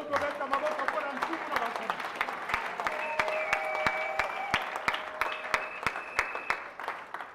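Church congregation applauding and cheering during a French-language sermon, a sustained wash of clapping with rhythmic hand claps and raised voices, loud and close throughout.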